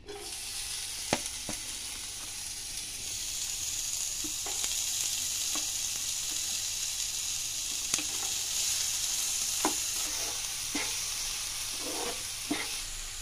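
Onions and green chilies sizzle steadily in hot oil in a pan, a continuous frying hiss with occasional sharp clicks and taps of a utensil scattered throughout, no voices.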